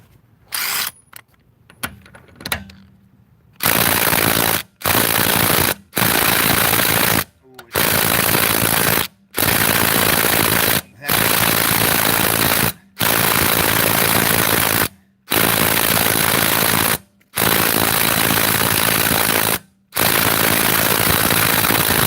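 DeWalt Atomic impact driver hammering on a lug nut set to 130, in loud, close bursts of rapid rattling impacts, about nine in a row, each lasting one to two seconds with short pauses between.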